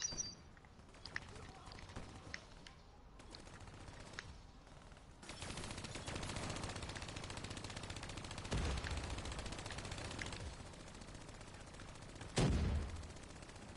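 Machine gun turret firing in Call of Duty Black Ops 3, rapid sustained bursts of gunfire over distant battle noise, with a heavy thump near the end.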